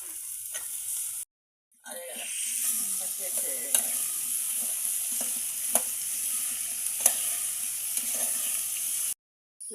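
Broad beans and green beans frying together in oil, a continuous hissing sizzle with light clicks of stirring, cut off briefly by two silent gaps, no speech.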